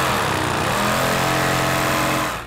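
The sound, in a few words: cutting the rough flashing off a cured ski block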